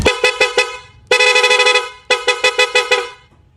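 Loud, bright horn honks from a Suzuki Raider 150 motorcycle with a Senlo X3 horn in three bursts: quick repeated beeps, a sustained blast, then another run of rapid toots, close and unaccompanied.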